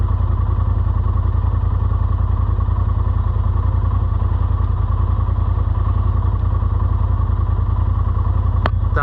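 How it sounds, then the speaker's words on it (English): A Polaris RZR Pro XP engine idles at 1250 RPM, a loud, close, steady low rumble with even rapid pulsing throughout and a faint click near the end. "That's a pretty good idle, 1250 RPMs."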